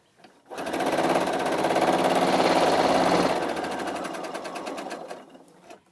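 A sewing machine runs a continuous chain-stitch seam through a line of fabric face masks at a 3.0 stitch length, a steady loud whirring buzz that holds for about five seconds and then tapers off.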